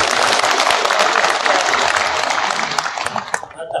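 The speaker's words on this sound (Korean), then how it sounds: "박수 한번 보내주십시오" Loud, dense applause from a crowd at a festival for Sinan County glass-eel fishing families, steady clapping that thins slightly toward the end.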